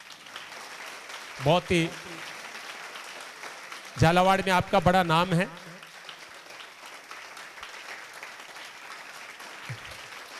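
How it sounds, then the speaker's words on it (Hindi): Steady applause at a Sigma School of Excellence event in Jhalawar runs as a soft, diffuse wash beneath someone speaking into a microphone in short bursts. "आइए सर, और सभी ताली बजाएंगे।"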